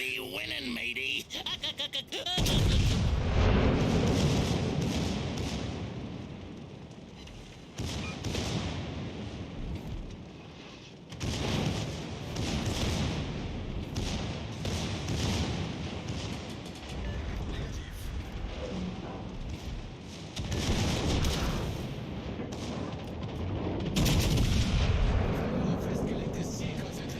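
Naval artillery from the battleship Colorado firing HE shells in World of Warships Legends, heavy booming salvos that recur in bursts, with laughter and talk mixed in between shots.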